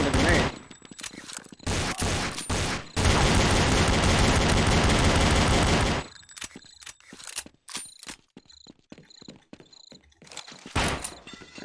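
Glock pistol burst fire in Counter-Strike: Condition Zero, dense loud volleys of shots with a sustained stretch of gunfire, then sparser clicks and mechanical weapon sounds, with some talking mixed in.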